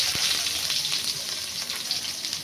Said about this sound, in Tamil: நல்லா வதங்கினதும் இது கூட ஒரு பெரிய சைஸ் ஆனியன் சேர்த்துக்கிட்டேன்.